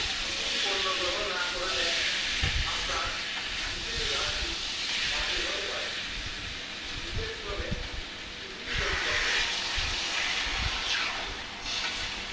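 Papaya curry being sautéed and stirred in a pan, a steady hiss of cooking with scattered scraping knocks from the spoon, fairly close and continuous throughout.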